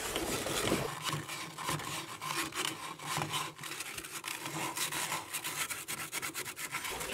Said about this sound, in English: it's the best take a piece of sandpaper and work over this